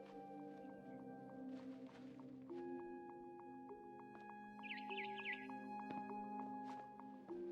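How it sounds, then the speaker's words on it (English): A barn swallow chirps outside a window in the game What Remains of Edith Finch, a brief, faint twittering burst midway over soft, sustained tonal music. "Then I heard chirping outside my window. It was a barn swallow going back to her nest."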